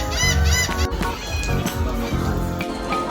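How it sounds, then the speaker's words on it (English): A bird calls aboard the Allure of the Seas cruise ship, giving repeated honking, monkey-like cries that are loud and close over a busy background hum. "The bird here sounds like a monkey."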